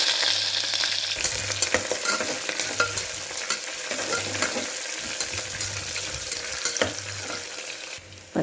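Onion, mustard seeds, cumin, dried chillies, garlic and green chillies frying in oil, a loud continuous sizzle with repeated scraping stirs of the spoon against the pan, close by.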